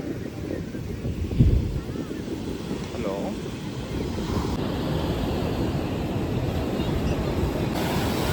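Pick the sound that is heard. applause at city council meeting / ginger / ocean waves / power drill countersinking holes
ocean waves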